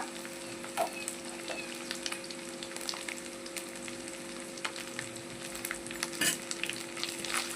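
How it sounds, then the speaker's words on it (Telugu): Curry leaves, coriander and mint frying in a pan, a continuous close sizzle broken by occasional spoon scrapes and light clicks, steady and moderately loud with no voices. "దీన్ని కూడా పచ్చి వాసన పోయేంత వరకు ఫ్రై చేసేసుకొని అలాగే కొంచెం కరివేపాకు కొంచెం కొత్తిమీర పుదీనా"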